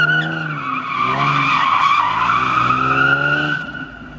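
A V6 Ford Mustang Foxbody drifting on the street, its tires letting out one long, loud squeal that rises and holds for several seconds before cutting off, with the engine droning underneath.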